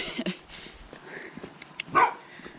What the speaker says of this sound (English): You're a bit of a pretty dog, aren't you?